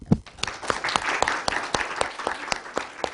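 An audience claps at the close of a speech, sharp individual claps at a quick, steady pace with no voices.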